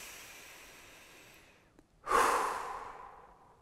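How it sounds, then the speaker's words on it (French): A single deep breath, drawn in and let out close by, loud and airy, following a quieter stretch of softer breathing. No voices. "prenez 3 grandes respirations très profondes"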